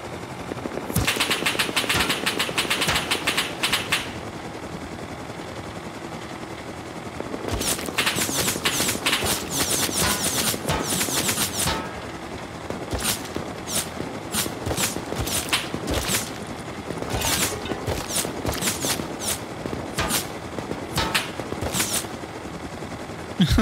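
Automated base turrets in an online survival video game fire long bursts of rapid gunfire, loud and close, with dense volleys at the start and middle and scattered sharp shots through the rest, plus faint footsteps.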